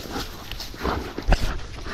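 Dogs working outdoors, with a few soft whimpers and short yips rising over rustling movement and footsteps, the loudest burst near the end of a brief stretch.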